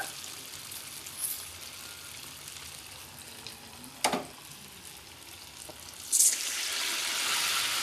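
Marinated chicken lollipops frying in hot oil in a kadai, a steady broad sizzle throughout with a few brief clatters and a louder burst of spitting oil near the end.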